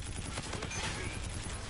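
Rapid gunshots ring out in a video game as a downed enemy's body is shot, a quick stuttering burst of fire alongside a player's voice.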